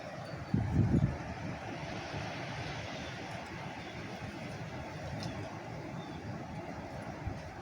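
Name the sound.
gust of wind on a windy morning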